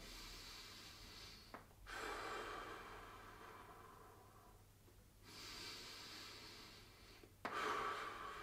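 Slow deep breaths during a gentle seated stretching exercise, two or three long quiet inhale and exhale cycles, soft and close, with no talking.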